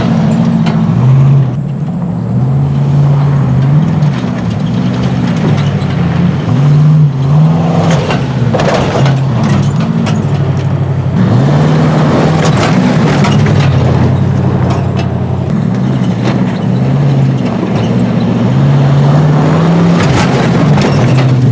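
Stock Ford Bronco driven hard around a dirt short course track, its engine loud and close, surging and revving in repeated waves with gear changes and no talking.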